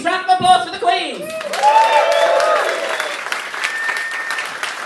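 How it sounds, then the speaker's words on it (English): A pub crowd at the Royal Vauxhall Tavern claps and whoops for drag queens, applause swelling under a compère's voice and then tapering off with scattered cheers. "Round of applause for the queens"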